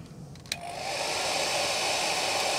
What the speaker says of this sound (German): Jetzt mache ich mal die erste Stufe des Föhns an.